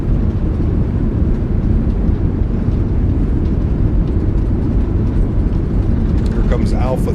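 Simulated Airbus A380 reverse thrust in Microsoft Flight Simulator 2024, a heavy, constant roar of engines spooled up while decelerating on the runway, steady and loud with a brief tonal sweep near the end.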